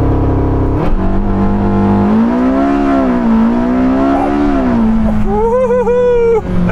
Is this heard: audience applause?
no